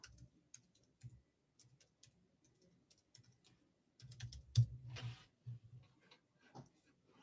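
Typing on a computer keyboard, sparse scattered keystrokes at first, then a denser burst of rapid clicks, close and fairly quiet, with no talking.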